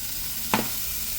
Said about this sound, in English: so we're just going to brown this meat here